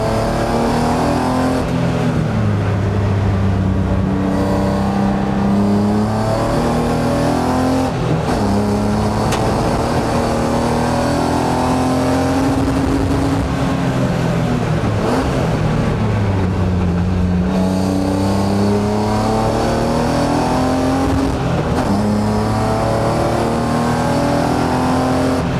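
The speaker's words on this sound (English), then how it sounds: "Take it easy, this car is so fast." A BMW E36 track car roars loudly and continuously at close range, its engine rising and falling through repeated revving and gear changes as it drives fast around a circuit.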